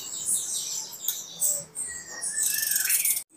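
Caged songbirds, including magpie robins, chirp and whistle in high, rapid bursts at a bird shop in Jakarta, several calls overlapping fairly close and clear over a faint background hum.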